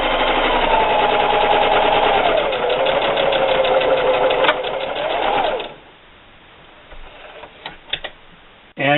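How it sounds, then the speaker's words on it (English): A sewing machine stitches a holiday gift bag in a steady, fast mechanical whir with a rising and falling motor pitch, then stops after about five and a half seconds, leaving a few clicks and handling sounds. "move down till you get to your second line, backstitch, and keep sewing"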